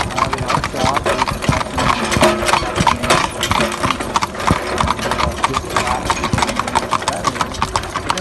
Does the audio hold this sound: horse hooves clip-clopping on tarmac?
yes